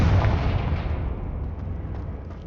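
A Confringo fire spell in Hogwarts Legacy erupts in one heavy close blast, its rumbling roar fading slowly over a couple of seconds.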